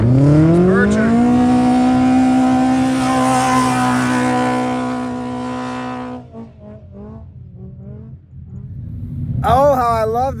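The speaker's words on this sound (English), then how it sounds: "Oh, how I love the sound of a high-performance engine wide open." A high-performance desert race vehicle screams past at full throttle, a loud rising engine whine that holds and then fades away, followed by a brief sharp revving burst as another one approaches.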